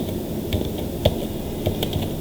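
A computer keyboard tapped with a few sparse, quiet keystrokes while entering wood product registration details into manufacturing software; the clicks fall singly at irregular intervals over a low background hum.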